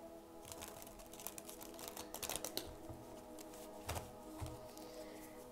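Tarot cards being shuffled close up, a series of soft flicking, riffling taps and light thumps that come in irregular bursts, fairly quiet, with no talking over them.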